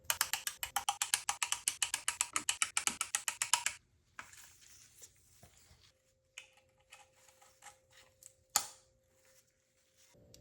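Ratchet tightening oil pan bolts on a 2011 BMW 328i N52, with a dense run of rapid close clicks for several seconds, then sparser, quieter clicks and a sharp knock near the end.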